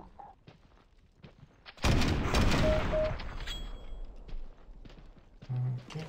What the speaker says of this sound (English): Shot through walls.